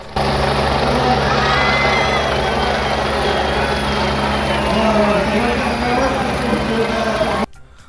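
A helicopter showering flowers at a statue unveiling ceremony in Manmad drones loudly overhead with a steady rotor chop and engine whine, sustained for several seconds before cutting off abruptly.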